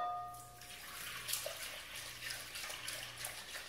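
Water trickles and splashes faintly into a bowl that already holds yeast for baguette dough, a soft steady pour with a few small drips.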